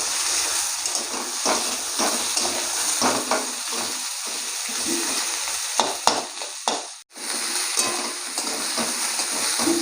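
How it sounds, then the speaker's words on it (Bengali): Sliced onions fry with potatoes in a pan, cooked for a fish dish in a Bengali village kitchen. The steady, loud hiss and sizzle continues throughout, broken by occasional stirring scrapes. "এখন আমি এই পেঁয়াজগুলো দিয়ে দেবো, পেঁয়াজগুলো একটু আলুর সঙ্গে ভেজে নেবো।"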